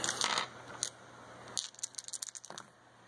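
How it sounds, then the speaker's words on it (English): Four combat dice tumble across a tabletop during a superhero board game, a cluster of sharp clicks and rattles at the start followed by a longer burst of quick clattering taps near the end, fairly faint against a quiet room. "So Armor's going to take a swing at that robot with his 4 combat dice"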